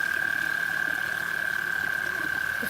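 Frogs croak in a garden pond, a steady, dense chorus of calls with a sustained high-pitched trill running throughout, fairly close.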